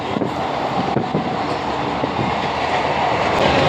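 A passenger train rumbles steadily with dense rattling and clattering of wheels, loud and continuous throughout, no voices.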